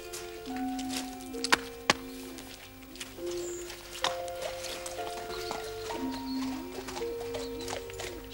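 Horse hooves clip-clop at a walking pace on a road in a 19th-century English village drama, sharp irregular strikes over steady background ambience, with occasional louder knocks and faint tonal sounds layered in.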